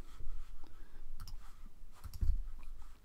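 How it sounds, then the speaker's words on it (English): Mouse clicks at a computer desk, several brief sharp clicks scattered across a few seconds over quiet room noise, one louder click cluster near the end. "I'm going to click on that, right click"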